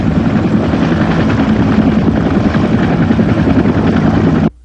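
A helicopter arrives: loud, close, continuous rotor chop and engine roar hold steady for several seconds, then cut off abruptly.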